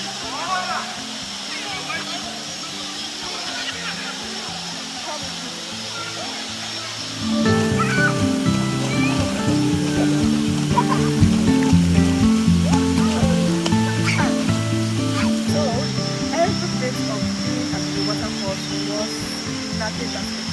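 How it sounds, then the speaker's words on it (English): Wli waterfall in Ghana roars as a steady, broad rush of falling water that grows louder partway through and then holds even and continuous. "Waterfall."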